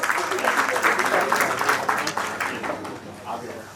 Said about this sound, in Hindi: तो रऊफ सैफी साहब के लिए एक बार जोरदार तालियां सब लोग बजा दें।